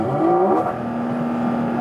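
Porsche 718 Cayman GT4 RS flat-six engine and exhaust while cruising with the PDK sport mode and sport exhaust switched off: a steady, moderately loud drone with a constant low hum throughout.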